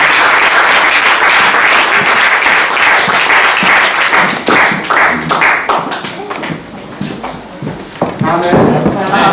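A church congregation applauds and cheers loudly, with dense rhythmic clapping and voices shouting over it for the whole stretch, the clapping thinning slightly before swelling again.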